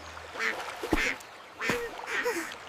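Ducklings quack in short bursts, a few soft calls spaced across a couple of seconds, fairly close and alone with no talking.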